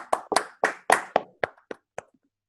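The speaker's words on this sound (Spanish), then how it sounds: "Fuerte los aplausos, por favor" Applause for a professor at a folklore forum, heard as about eight separate, crisp hand claps close by that slow down and trail off into silence.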